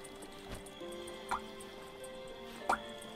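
Three separate drips of water fall onto a parched seedling in a video game, distinct plops spaced about a second apart over a faint steady background tone.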